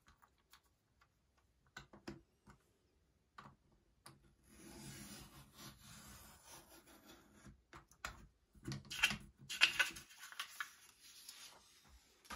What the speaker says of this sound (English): we're going to use the blue blade in that same pattern.